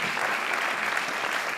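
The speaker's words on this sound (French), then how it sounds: "on va accueillir tout de suite Nudge avec Foucault qui est là, on peut l'applaudir" An audience applauds a presenter being welcomed on stage at a French event, a dense, even wash of clapping that holds steady throughout the short stretch.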